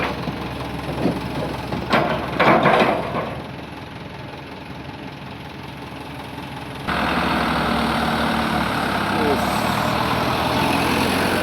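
A heavy dump truck engine idles with a low, steady rumble, shifting to a louder, fuller drone partway through; some voices and clatter early on.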